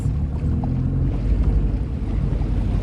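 Original engine of a 1969 Glasspar Tacoma 14 boat running out on the water, a steady low rumble droning continuously with wind buffeting the microphone and no talking.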